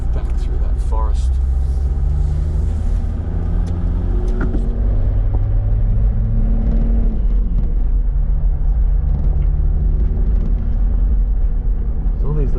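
Toyota 80 Series 4WD engine rumbles low and close on a forest track in Wilga State Forest, South West WA, revs rising and falling as it creeps along, while someone talks over the drone.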